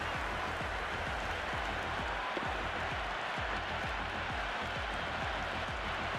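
A stadium crowd in the cricket video game Cricket 26 applauds and cheers in a dense, continuous wash of clapping and roaring, held at an even level with no speech over it.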